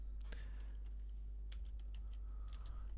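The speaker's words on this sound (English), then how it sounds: "And then we type import my name." Someone types a Python command on a computer keyboard: scattered, quiet key clicks in short bursts over a low steady hum, with no talking.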